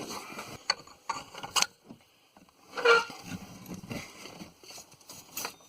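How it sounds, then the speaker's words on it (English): A breaker bar turns the belt tensioner on a 2008 Ford F-150 engine, giving scattered metallic clicks, clunks and ratcheting knocks, close by and irregular, with quiet gaps between. "So the tensioner is just a 1/2 inch. I'm going to try to get the breaker bar on it."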